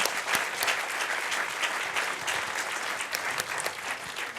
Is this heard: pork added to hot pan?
no